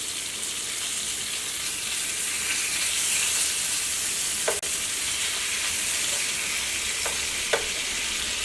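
Sardines coated in spicy masala fry in a pan with a continuous close sizzle and hiss, broken by a few brief clicks and knocks of the pan partway through.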